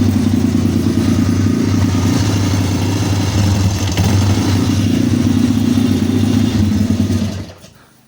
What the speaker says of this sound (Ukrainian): подивимось, як він запускається, працює чи ні